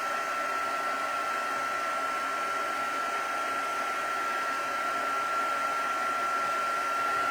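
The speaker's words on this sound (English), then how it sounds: "I'm just going to dry it with the heat tool for a second." A craft heat tool blows hot air to dry a mixed-media art journal page, a constant close whirring hiss with a steady high whine that runs unchanged throughout with no talking.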